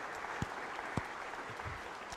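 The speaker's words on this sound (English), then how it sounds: "Can y'all give a round of applause for all the students who served this week?" A crowd claps steadily for a couple of seconds, fairly faint and distant, with a few sharper individual claps standing out.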